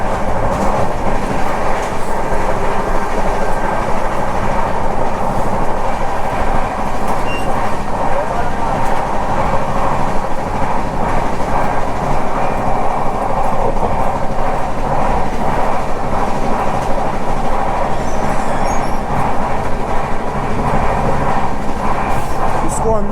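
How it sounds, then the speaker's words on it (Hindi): A Garib Rath Express train runs fast on the tracks, with continuous loud rumble and rhythmic clickety-clack of the wheels heard from inside the carriage, steady throughout with faint voices in the background. "एकदम रॉकेट की तरह चल रही ट्रेन"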